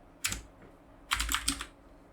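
Bursts of quick keystrokes on a computer keyboard, one short flurry followed by a longer cluster of taps, close and fairly quiet with no talking.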